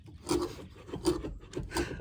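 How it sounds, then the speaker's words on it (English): Rhythmic rasping strokes of sanding, close up, in repeated back-and-forth bursts with no talking. "All right, Zach, you're up here sanding away too."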